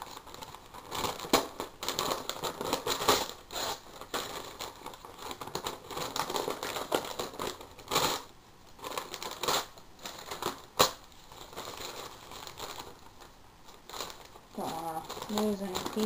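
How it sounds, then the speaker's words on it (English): A sheet of newspaper being torn into pieces for a torn-and-restored magic trick, repeated close ripping and crinkling bursts of paper with a brief voice near the end. "I'm going to tear the newspaper"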